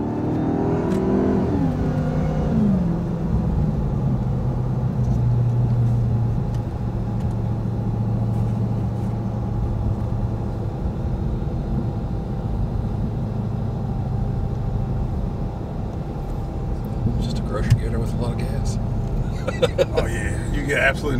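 A 2023 Dodge Charger Hellcat Redeye Jailbreak driving through a city, its supercharged engine giving a steady low rumble and whir inside the cabin, with a rise in revs early on, while people talk over it.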